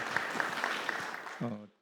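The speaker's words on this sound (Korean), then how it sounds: "큰 박수 부탁드리겠습니다." An audience applauds at the close of a panelist's talk during a policy forum on a new airport, with clapping running under a voice before it quickly dies away into silence.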